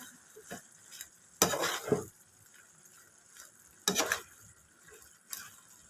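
Spatula stirring sautéed kangkong (water spinach) in a pan, heard as a few distinct scraping bursts over a soft, steady sizzle, with quiet gaps between strokes.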